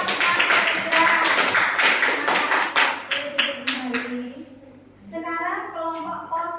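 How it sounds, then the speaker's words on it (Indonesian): Classroom applause for the smart postman group comes as a run of sharp, rhythmic claps that thin out midway, then a voice starts talking over the fading clapping. "Beri tepuk tangan untuk kelompok Pak Pos yang cerdas."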